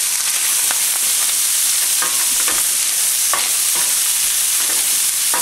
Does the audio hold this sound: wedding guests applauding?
no